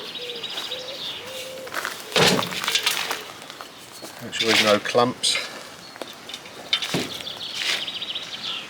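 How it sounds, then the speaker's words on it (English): Birds sing and chirp on a relaxing evening in rural France, with bright repeated calls and a soft cooing beneath people talking and several sharp bursts of clatter. "Lovely bird song."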